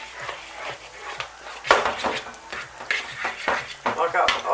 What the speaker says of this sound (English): So we're deep frying our Mars bars